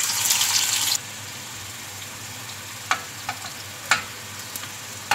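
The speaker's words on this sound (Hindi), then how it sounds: "अब इसमें मैं प्याज ब्राउन कर लूँगी।" Onions browning in about half a cup of hot oil: a loud burst of sizzle at first, then a quieter steady fry broken by a few sharp clicks of stirring, close by with no speech.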